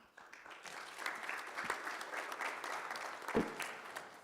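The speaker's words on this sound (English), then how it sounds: "May we give a round of applause to the Deputy Minister and the panelists" An audience at a G20 symposium on financial inclusion applauds a Deputy Minister and panelists with steady, moderately quiet clapping that fills the room for about four seconds.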